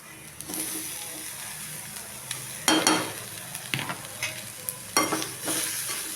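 Cluster beans stirred into onion and carrot frying in a pan, with a steady close sizzle broken by repeated scraping, clattering stirs at an irregular rhythm and no talking.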